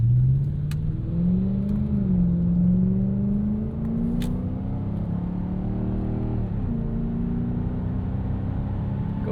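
A Mitsubishi Outlander Sport engine pulls hard under acceleration, a loud, steady droning rumble climbing in pitch with a brief dip as it shifts, heard from inside with no talk.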